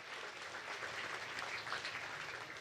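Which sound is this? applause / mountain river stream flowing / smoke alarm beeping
applause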